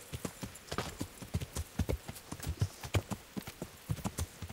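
Horse hooves clip-clop in a quick, uneven rhythm, fairly faint and steady, with no talking over them, from the video game Kingdom Come: Deliverance.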